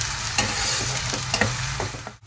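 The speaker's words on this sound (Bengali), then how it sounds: "পেস্টটা ভালো করে ভেজে নেব যতক্ষণ না এর থেকে কাঁচা গন্ধটা দূর হচ্ছে।" Cashew and tomato spice paste is stirred and fried in a pan with onions. A continuous sizzle is broken by repeated scraping strokes of the spoon, close and moderately loud.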